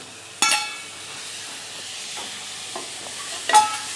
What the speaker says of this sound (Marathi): आता कोळंबी अशी मिक्स करून घेऊया मस्तपैकी दोन ते तीन मिनिट मध्यम गॅसवर अशी परतून घेऊया